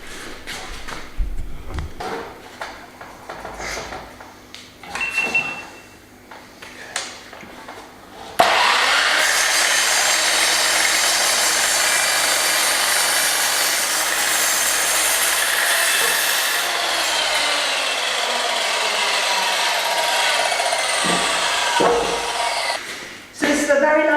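A power saw cuts a solid wooden plank for a farmhouse kitchen tabletop: after a few seconds of handling knocks and speech, a loud close continuous whine with rasping cutting noise starts and runs to the end.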